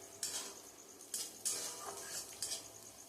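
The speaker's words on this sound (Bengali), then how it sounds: "এবার সবগুলোকে একসাথে বেশ ভালো করে খুন্তি দিয়ে নাড়িয়ে চাড়িয়ে নিয়ে নেব।" Ginger and green chili stirred with a metal spatula while a vegetarian potato chowmein is cooked, several sharp scraping clinks against the pan at irregular intervals over a faint sizzle, close and moderately quiet.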